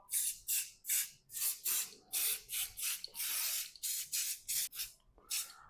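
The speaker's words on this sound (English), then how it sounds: "Now give them a spray on the top." Repeated short bursts of an oil spray nozzle hissing over pork dumplings, about a dozen quick sprays in an uneven rhythm, close and clear with no voices.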